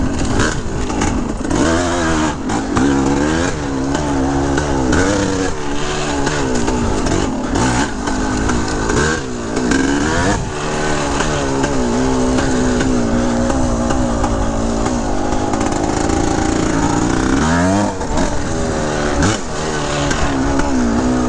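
A 1982 Yamaha YZ250 dirt bike ridden hard on fresh Dunlop tires, its two-stroke engine snarling continuously, loud and close, as the revs rise and fall with throttle changes.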